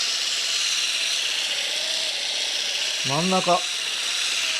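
A Duratech cordless polisher runs at its lowest speed, a steady high buzzing whir that holds throughout, with a short spoken word breaking in near the end.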